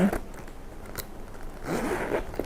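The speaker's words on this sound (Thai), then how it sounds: "มีซิปด้านในอีกทีหนึ่งนะคะ" An inner zipper on a pink GUESS handbag is pulled open in two close, crisp zipping strokes, with a short tick between them and a longer rasping run at the end.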